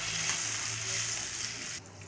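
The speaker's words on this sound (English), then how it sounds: "Here the jaggery syrup is boiling." Jaggery syrup boils in a pan for mixed dal payasam as cooked rice and dal go in, giving a close, steady sizzling bubble that drops off sharply near the end.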